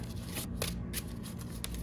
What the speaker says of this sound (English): Let me do a quick shuffle and then one more set.